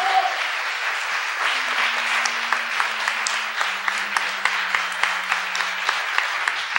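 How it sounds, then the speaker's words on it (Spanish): Audience applause fills a theatre hall, a steady dense wash of many hands clapping throughout, with a faint sustained tone running beneath it. "les pido un aplauso para él"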